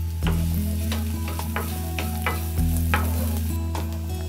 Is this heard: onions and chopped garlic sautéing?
yes